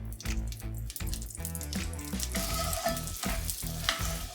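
Butter and andouille sausage juices sizzle in a pan as the base for a gravy, making a strong, crackling fry with rhythmic bursts that grow denser and louder toward the end. No one speaks.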